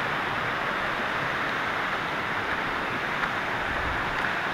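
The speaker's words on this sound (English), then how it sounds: "This is a little river." A small river flows over rocks and moss near a little bridge on the way to a waterfall, a steady, fairly close rushing hiss without a break or a voice.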